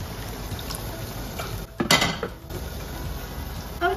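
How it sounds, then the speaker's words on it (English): Water is poured into a pot of steaming lamb, with a short splash and gurgle over a steady low kitchen rumble. Faint clinks of cookware can be heard. "Time to put a bit of water in."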